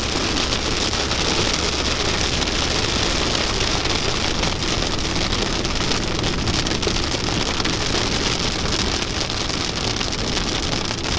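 Rain drums steadily on a car being driven through Oregon, a dense, loud, continuous wash of drops hitting the body and glass, with no voices.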